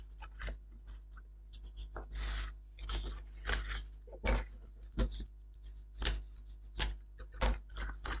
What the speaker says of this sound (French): Donc on marque bien tous les plis.